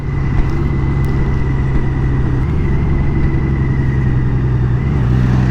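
A Honda Goldwing DCT motorcycle cruising on the road, a steady loud engine drone with wind rush and a constant low hum, close and unbroken throughout.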